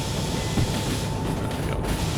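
A train rolling over a track switch at about 40 km/h in the Derail Valley video game, a steady close rumble with a faint clunk over the rail joints.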